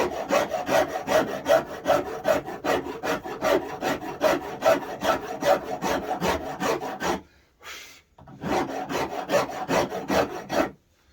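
Hand tool rasping a mahogany neck-through guitar neck during neck carving, with rapid, rhythmic back-and-forth strokes close and fairly loud, pausing briefly near the end before a final burst of strokes.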